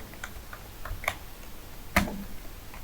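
Sparse, light keystrokes on a computer keyboard, a handful of soft clicks spread irregularly, with one sharper tap near the end, close and quiet with no talking.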